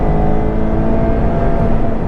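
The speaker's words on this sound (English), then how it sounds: "So as I'm braking hard now in a straight line and going down to second" A 2020 Mazda MX5 ND2 braking hard in a straight line on a circuit and dropping down to second gear; a steady, loud engine drone with whirring tonal harmonics holds throughout, heard from close inside the cabin with no talking.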